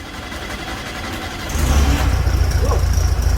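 A 1974 VW Beetle engine with a newly installed carburetor turns over and catches, its low rumble jumping louder midway and settling into a steady, close idle.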